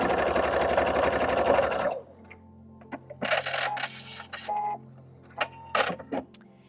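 A sewing machine stitches an antique-style quilt in a loud steady run for about two seconds, then stops, leaving scattered clicks and light rattles of handling fabric.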